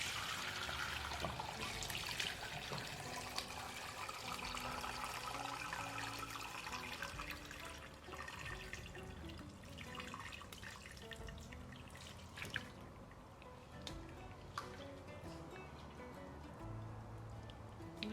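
Chicken stock from an Instant Pot is poured through a colander into the pot, giving a continuous quiet splashing and trickling of liquid with scattered drips, no talk over it.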